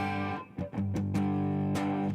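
A jazz guitar played through a distortion effect strikes a few chords, each one ringing out with a thick, buzzing sustain at close range with no voices.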